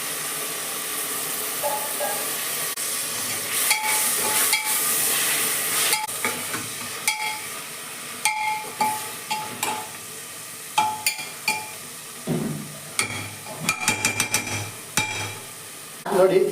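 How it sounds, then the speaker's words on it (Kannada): Curd is stirred into sizzling chicken biryani masala in a hot pan: a constant frying hiss broken by repeated scraping and clattering strokes of the spoon, close and fairly loud. "ಸ್ವಲ್ಪ ಕರ್ಡ್ ಆ್ಯಡ್ ಮಾಡ್ಕೊಳ್ತೇನೆ."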